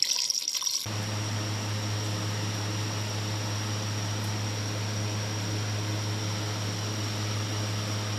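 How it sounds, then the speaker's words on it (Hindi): A glass of water pours steadily into a cooking pot for a dum pukht dish, a constant rushing splash that starts abruptly after a brief silence and continues evenly to the end. "एक अदद गिलास हमने इसमें पानी ऐड कर लेना है"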